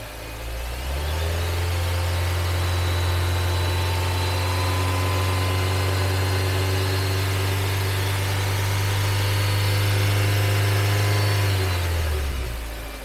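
A used Nissan Evalia's engine climbs from idle to a steady 2000 RPM and holds there for several seconds before dropping back down, loud and close.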